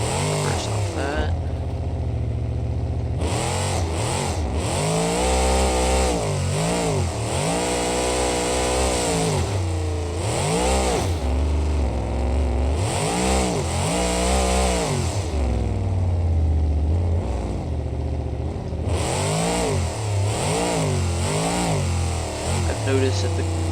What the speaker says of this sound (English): the little Gravedigger Legend has a very over horsepowered engine compared to the others